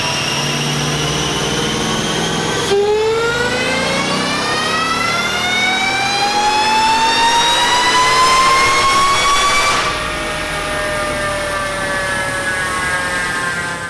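A Whipple-supercharged 2015 Mustang revs hard on a dyno pull, its engine and supercharger whine climbing steadily in pitch for several seconds before the throttle lifts and the tone drops back, loud and close throughout.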